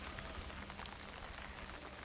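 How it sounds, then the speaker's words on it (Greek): Steady rain patters on a surface in Farsala, Greece, a soft continuous hiss with scattered drops, fairly quiet and uninterrupted throughout. "Είναι και ο καιρός δεν αφήνει σήμερα με τη βροχή πάλι."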